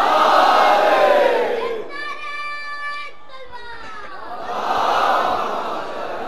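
A mosque congregation at a Shia majlis loudly recites salawat in unison, a swelling chant of many voices that rises, holds, then surges again, with one leading voice briefly sustaining tones in between.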